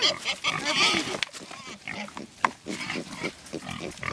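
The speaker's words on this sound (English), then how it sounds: "They're speaking pig." Big pigs on a farm grunt and snort close by, a busy run of rough, low snuffles and squeals with a sharp squeal partway through, while people talk over and between the animal sounds.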